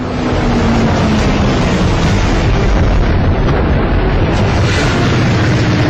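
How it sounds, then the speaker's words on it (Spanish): A Japanese bomber explodes in flames in wartime combat, heard as a loud, dense, continuous roar and rumble filling the whole span without a break. "El bombardero estalla en llamas y cae fatalmente en picada."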